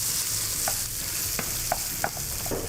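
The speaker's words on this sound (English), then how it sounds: "Bacon sizzling might be one of the best sounds in the entire world." Quiet, steady sizzle of bacon frying in a pan, with a few soft pops and crackles scattered throughout.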